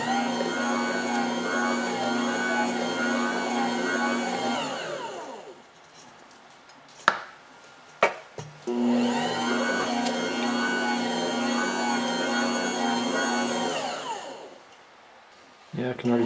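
A Joydeem JD HMJ7L bread maker motor hums steadily as it kneads dough, running in two long whirring stretches separated by a pause with a few knocks and clicks.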